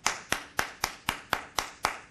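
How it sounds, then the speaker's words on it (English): One person claps their hands eight times in an even, brisk rhythm at a city council meeting. The claps are crisp and close, with nothing else audible around them. "I'll give everybody in this room tonight an applause."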